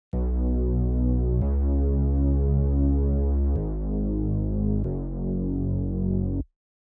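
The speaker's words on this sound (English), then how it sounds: "I added this sinister sub bass." A deep, dark sub bass in an FL Studio beat drones in sustained notes, shifting pitch three times before cutting off abruptly, with no other sounds.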